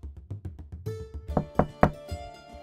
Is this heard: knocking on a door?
yes